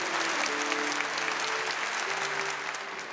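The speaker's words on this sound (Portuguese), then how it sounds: "Mostra esse povo aplaudindo." A church congregation claps together at a Catholic Mass, a dense, even wash of applause that holds steady before easing slightly toward the end, with no voices over it.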